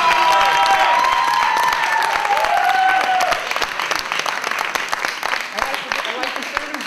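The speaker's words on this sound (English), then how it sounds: "We gotta give him a round of applause, Alex." An audience claps and cheers in a dense burst of applause, loud at first and then thinning out, with voices calling out over it.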